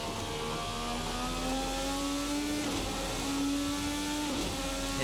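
A twin-turbo 2.2-liter V6 race car engine in the Assetto Corsa video game drones steadily, pitch climbing smoothly as it accelerates through gears, loud and close with no talking.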